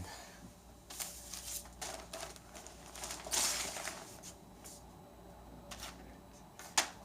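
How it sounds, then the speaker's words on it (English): Steady light rain falls outside a motel in Tillamook, Oregon, a soft continuous patter with a few sharper taps and drips, fairly faint and with no talking. "Yeah, she's raining."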